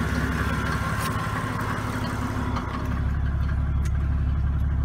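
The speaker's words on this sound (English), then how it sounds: "And it smooths it out once the motor warms up." A Mercedes OM 603 diesel engine idles after warming up, a steady low rumble with a fine mechanical clatter that grows smoother and deeper toward the end.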